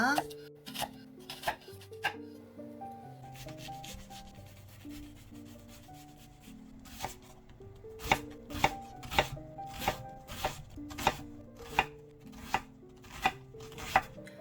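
A knife chops an onion steadily on a board, sharp rhythmic taps growing louder and quicker, with soft sliding sounds between strokes.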